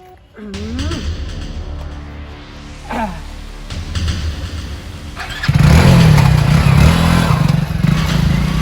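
A motorcycle engine cranks and catches, idling unevenly before revving to a loud, steady roar close by; voices can be heard over it.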